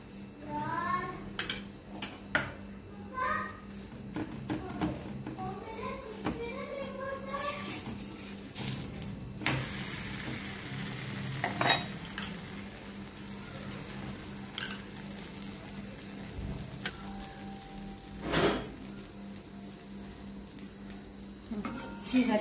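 Puran poli, a jaggery-sweetened Maharashtrian flatbread, frying in ghee on a griddle with a soft, steady sizzle, punctuated by scraping and clinking of a spatula and utensils, with occasional louder knocks.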